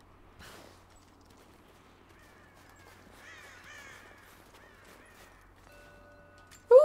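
A crow caws in the game Rise of the Tomb Raider: a few thin, scratchy calls rise over a quiet backdrop, joined by faint in-game rustles and a sharp loud hit at the very end.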